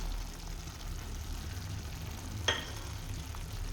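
Prawns with salt frying in a masala gravy in a pan, a low steady sizzle with one brief sharp clink partway through.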